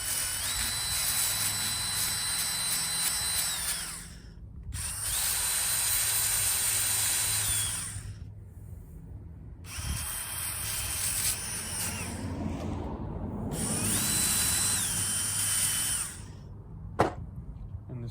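A power tool whirs in three sustained bursts with short pauses between them while cleaning corrosion off the ignition area of a Woodmizer LT40 sawmill, with a steady high whine and a low rumble underneath.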